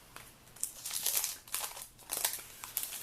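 Soft crinkling plastic as an embossing folder is slid out of its pack, in several short rustling bursts, faint and close.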